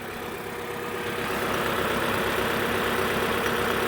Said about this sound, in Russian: А движок-то ровнее стал работать, слушай.